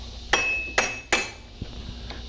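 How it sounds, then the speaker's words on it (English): Hammer tapping a pry bar into a rotted garage door jamb, heard as three sharp metallic strikes in quick succession, followed by a softer knock, against a low background hum. "I'm going to take this and pop it in place with my hammer."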